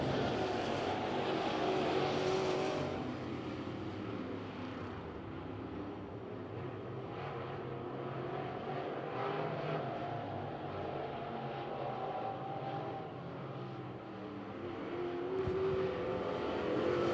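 Open wheel modified race cars at the Spring Natty feature on Lavonia Speedway, a continuous roar of engines circling the track, louder at the start and end, with no talking.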